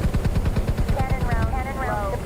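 Helicopter cannon fire in MSFS24: a rapid, rhythmic stream of heavy shots over a low engine drone, with a voice speaking partway through.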